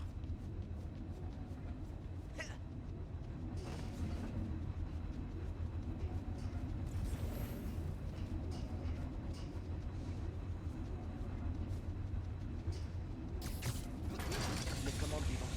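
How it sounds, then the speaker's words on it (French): Large ventilation fan machinery in the Spider-Man: Miles Morales video game whirs and clanks in a continuous, steady mechanical rumble with rattling, ratchet-like ticks, and faint talk occasionally over it. "Brise les câbles au-dessus du ventilo et il devrait s'arrêter."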